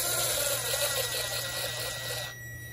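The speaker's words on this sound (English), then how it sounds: "I have a really cool power gun that has different torque modes" A power gun with torque modes drives clutch bolts on a 2011–2019 ZX10R motorcycle, making a brief steady whirring buzz that stops abruptly after about two seconds.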